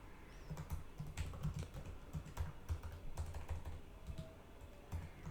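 Typing on a computer keyboard, with quick, uneven clusters of close keystrokes and short pauses between bursts, with no talking.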